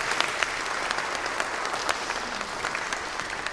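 Steady audience applause fills a chapel, a dense patter of many hands clapping at an even level throughout with no voices over it.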